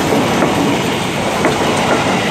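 Indonesian commuter train 6029 bound for Jakarta Kota enters the station track, a loud, steady rail rumble with rhythmic clickety-clack of wheels over joints and faint wheel squeal, no voices.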